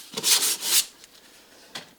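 Two bursts of coarse rubbing as abrasive scrapes back and forth over filler on wood, close by, then a quieter stretch and one brief final stroke.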